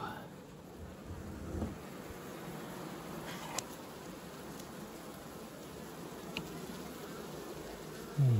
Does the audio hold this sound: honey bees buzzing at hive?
yes